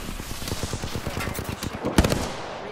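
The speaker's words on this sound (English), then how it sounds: "Opening fire." Automatic gunfire in Apex Legends: a rapid, evenly spaced burst of loud shots, close and dry, ending with a sharper crack and a short tail, with no talking over it.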